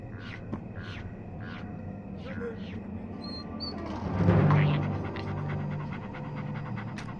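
A dog in the Gloomy Eyes VR story panting in quick, rhythmic breaths, followed by a louder swell of sound and crow-like caws, with a voice talking underneath.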